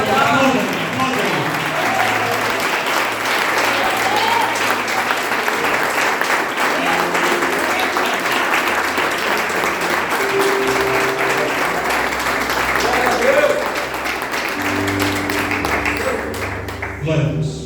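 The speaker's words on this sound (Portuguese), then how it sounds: "e agora aplaude ao Senhor" Church congregation at a family worship service applauds in a loud, steady, continuous wash of clapping that holds for a long stretch before tapering slightly at the very end.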